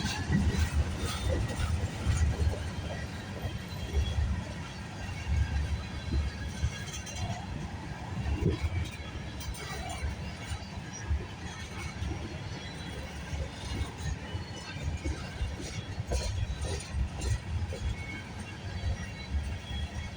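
CN freight train 382 passing Sarnia VIA station in Ontario at night, a steady loud rumble of rolling railcars with rattling wheels and clanks continuing throughout without pause.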